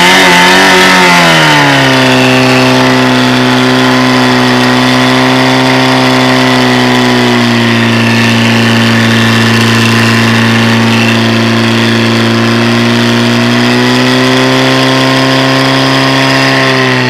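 Fire pump engine roaring at a volunteer firefighting competition, a loud, sustained steady drone that dips slightly in pitch early on and holds evenly throughout, very close and dominant.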